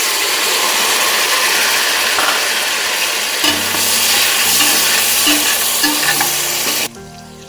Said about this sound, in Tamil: இஞ்சி பூண்டு பேஸ்ட் போட்டு நல்லா வதங்கணும்.